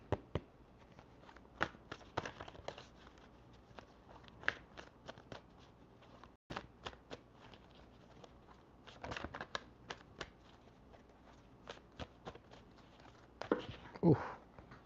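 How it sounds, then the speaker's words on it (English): Tarot cards being shuffled by hand in repeated crisp riffling bursts and soft slaps, close and fairly quiet, with occasional brief speech between bursts. "Let's shuffle these up a little bit."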